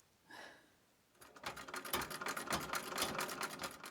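A 1927 Singer sewing machine starts up after a brief soft noise, then runs in a steady, fast mechanical clatter with rhythmic needle strokes, close and moderately loud, with no talk.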